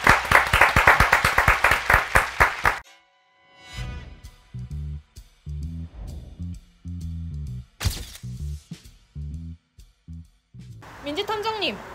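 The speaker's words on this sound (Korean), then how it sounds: "저희 박수 한번 치고 마무리할까요?" Short burst of group clapping from a small cast wrapping up a food show, loud and close, following lively talk and then giving way to scattered clinks and thuds of eating with voices chatting.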